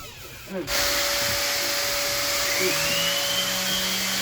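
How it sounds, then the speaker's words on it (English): An orbital sander with 150 to 220 grit sandpaper works on trim, whirring steadily with a vacuum drawing air alongside it, a continuous close mechanical hum and hiss after a brief start. "Use the orbital sanding machine with a vacuum to prevent dust."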